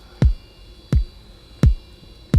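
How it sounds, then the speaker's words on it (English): Four deep kick drum samples sound one after another at an even pace, each a punchy low thump with a quick decay, isolated over a faint steady hum, auditioned for a reggaeton beat. "I just want to see what he has in here for some kick drums tones"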